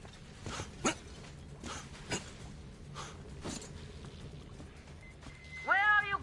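Dog barks in the video game Metro Exodus, a handful of sharp barks spaced across the clip over game ambience and a low voice, followed by a rising whine at the end.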